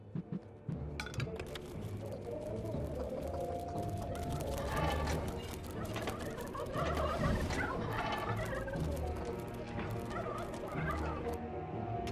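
Several turkeys in the video game Dungeons 3 gobble repeatedly in a dense, overlapping chorus that stays loud and steady throughout.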